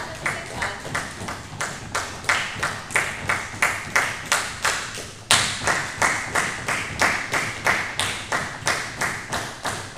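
A dance step of stomping in place while clapping, a steady rhythmic run of loud claps paired with thudding foot stomps, evenly spaced and close, with a brief break midway.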